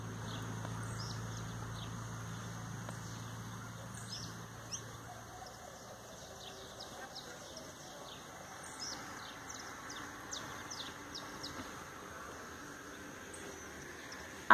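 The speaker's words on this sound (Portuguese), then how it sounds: "Aqui de tarde é só eu canto de passarinho" Small birds chirp and tweet intermittently on a quiet Sunday afternoon, faint, scattered high calls over a soft background hum with a low rumble fading early on.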